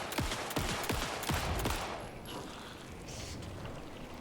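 Gunfire in the Alan Wake video game: a quick burst of five or six sharp shots in the first second and a half, followed by a lower rumbling tail with no talking.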